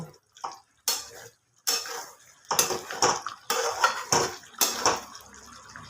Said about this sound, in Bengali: অল্প একটু গরম মশলার গুঁড়ো সমস্ত কিছু ভালোভাবে মিক্সড করে নেব